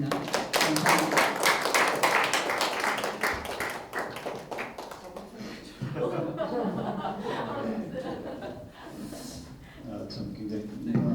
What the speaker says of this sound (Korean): 두 분의 작가님을 박수로 맞이해 봅니다